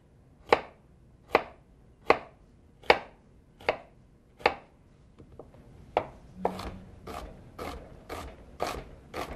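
Knife chopping a red onion on a cutting board: evenly spaced sharp thuds, about one per 0.8 seconds, then a faster run of cuts with faint rustling between, close and with no talk.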